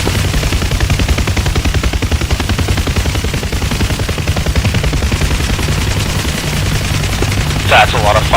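Dense, continuous gunfire rattles from the south in the DCS flight simulator around an AH-64 Apache, a steady loud barrage over a deep rotor-like rumble, with a brief voice near the end.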